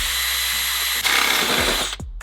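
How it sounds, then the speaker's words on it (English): A power drill with a 5/16 inch bit bores through the body of a 3rd gen 4Runner, a steady loud whine that rises in pitch partway through before cutting off abruptly near the end. "grab your drill and your 5/16 inch bit and let's drill this hole"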